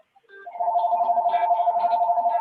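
Telephone rings with a steady warbling electronic tone that starts up and pulses continuously, close and fairly loud, with no talking over it.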